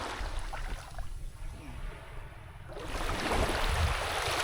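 Sea waves washing in after a typhoon at Cagbalete Island, a steady broadband wash of surf and wind that swells louder toward the end, with no voices.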